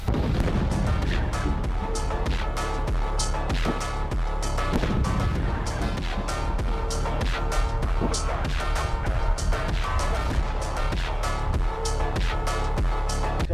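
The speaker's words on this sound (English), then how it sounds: "So this explosion was made possible by LFGO" A loud, sustained explosion roars, with dense rumbling and repeated sharp cracking impacts that continue without a break, and no clear speech.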